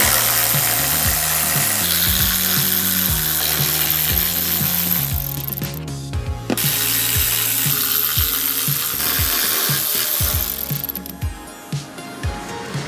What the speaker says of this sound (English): All we've got to do is just take out three 12mm bolts on each side